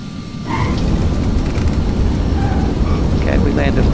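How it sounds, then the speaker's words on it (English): An Embraer Phenom 300 jet touches down in a flight simulator, a loud steady rumbling roar of engines and runway noise swelling slightly after the first half second, with faint tones and a voice under it. "we landed a little faster than we wanted to, and a little bit right of center"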